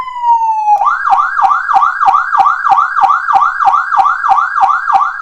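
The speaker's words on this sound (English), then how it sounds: "You know what siren that sounds like, don't you?" A loud Powercall DX5200 electronic siren wails in a rapid, repeating up-and-down yelp, cycling steadily after a brief falling tone at the start.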